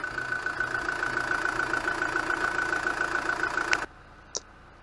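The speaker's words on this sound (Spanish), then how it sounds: "Ya hemos arrancado el vehículo" A Kia Carnival engine runs at a steady idle after an EGR valve repair, a continuous even hum with a faint tone on top, then it cuts off abruptly, leaving one brief click in near silence.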